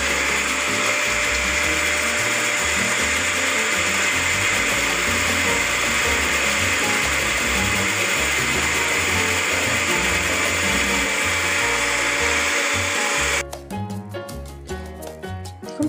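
A blender whips garlic sauce for chicken shawarma while oil is drizzled in slowly: a loud, steady whirring motor drone for about thirteen seconds, then an abrupt drop to quieter, uneven clattering.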